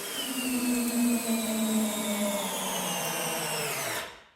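A DEWALT brushed drill driver drives a lag bolt with a continuous whining motor hum. The pitch drops slightly as the load builds, then the sound stops abruptly after about four seconds. No voices.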